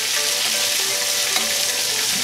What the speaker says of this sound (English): I'm gonna baste it with some oil right here